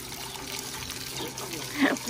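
Water is poured and trickles over Himalayan bear cubs during a bath: a soft, continuous splashing and dribbling close by, with a slightly louder gush near the end.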